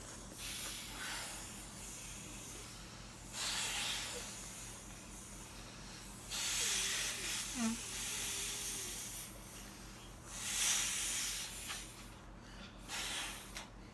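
Air hisses in bursts as a leaking inflatable toy is blown up, several breathy rushes separated by pauses, close and fairly soft, with a child's small vocal sounds in between.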